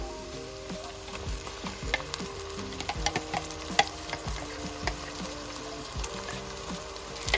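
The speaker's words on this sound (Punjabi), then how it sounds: "ਹੁਣ ਆਪਾਂ ਪਾਵਾਂਗੇ ਟਮਾਟਰ ਤੇ ਹਰੀ ਮਿਰਚ ਦਾ ਪੇਸਟ" Tomato and green chili paste sizzles in a pan after garlic and ginger for a Punjabi fish curry, a steady close frying hiss with frequent stirring scrapes and small bubbling pops.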